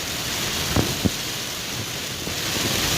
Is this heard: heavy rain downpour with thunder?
yes